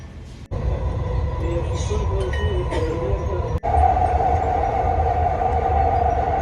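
A metro train at a Dubai Metro station gives a steady loud rumble, with a brief break near the start and a sharp drop just past halfway. A brighter hum then rises and holds to the end.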